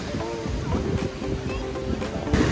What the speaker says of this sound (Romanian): Oceanul Atlantic.